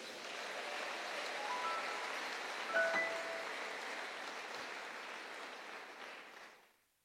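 Church congregation applauding and cheering at a Sunday worship service, a sustained wash of clapping that holds steady for about six seconds and then fades out.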